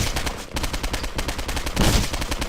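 Rapid gunfire from the video game Postal 2, a loud continuous burst of shots with a heavier blast near the end, no voice over it.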